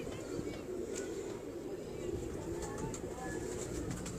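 Pigeons coo softly over a steady background hum, with a voice talking intermittently nearby.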